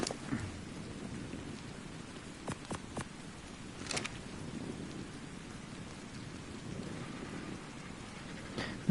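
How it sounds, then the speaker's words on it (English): Steady rain pours down during a thunderstorm in the survival game Ark Survival Ascended, a continuous hiss with occasional sharp cracks and low thunder rumbles, with no talking. "Oh, it's raining at the minute."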